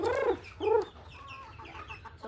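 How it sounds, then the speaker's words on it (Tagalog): Hen clucking in a backyard coop, two loud rising-falling calls near the start followed by softer, quieter clucks and murmurs over a low background hum. "halata nyo na ba na may inahin dyan?"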